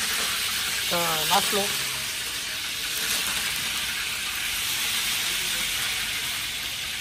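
Cumin seeds and curry leaves sizzle steadily in hot oil, a continuous close hiss running throughout, with a brief voice speaking over it near the start.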